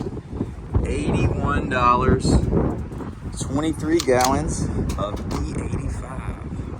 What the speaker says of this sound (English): Sorry about the wind, it's crazy today.